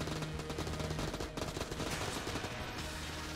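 Rapid automatic gunfire from a heavily modded weapon in the video game Enter the Gungeon, a dense nonstop stream of shots with game effects layered over it, loud and continuous, with a brief dip partway through.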